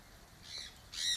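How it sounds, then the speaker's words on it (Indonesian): A caged bird at the Kuala Lumpur bird park gives two harsh, crow-like squawks, the second louder and longer, close by against quiet background noise. "burung, tuh burung."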